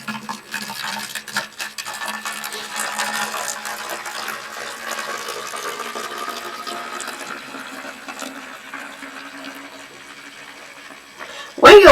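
Homemade yogurt mix is poured into a bottle as a steady, splashy liquid stream that lasts several seconds and fades slightly, ending with a brief louder knock near the end.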